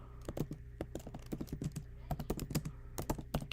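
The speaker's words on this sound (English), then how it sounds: "Can you hear my keyboard?" Quick bursts of typing on a computer keyboard, close and clear, with irregular clusters of key clicks and short pauses between them, no talking over it.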